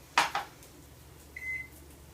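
An electronic kitchen timer for mushroom fries chirps twice in quick succession, then sounds a longer, faint steady tone after a short pause in a quiet room.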